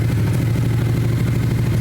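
A Yamaha R7 motorcycle engine running with its back wheel spinning: a steady, even mechanical drone, close and fairly loud, with no talking.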